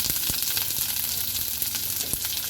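Onions frying in a pan for a jute leaf curry, a steady, close, dense sizzle and crackle that runs throughout with a few sharper pops and no talking.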